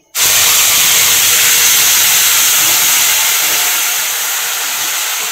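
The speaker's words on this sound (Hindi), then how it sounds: "ये फ्राई हो चुका है गरम मसाला अब मैं उसमें डाल रही हूँ" Loud, steady sizzling as garam masala goes into a frying green chili paste in a hot pan, a sudden burst of hiss that continues close up and fades only slightly.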